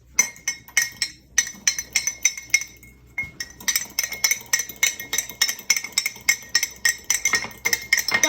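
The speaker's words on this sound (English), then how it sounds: "So Robbie, can you beat the egg, please?" An egg being beaten in a cup with a utensil, a rapid, steady series of bright clinks of metal on the cup rim with a brief pause partway through, close and loud.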